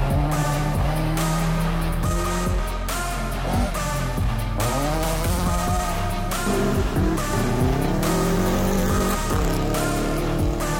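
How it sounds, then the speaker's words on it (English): Rally cars roll in after their stages at the Middle Of Everywhere Rally 2022, engines loud and close, revving and shifting pitch as several vehicles pass, with brief tire squeals over a constant roar. "So all the cars are coming in after doing their stages."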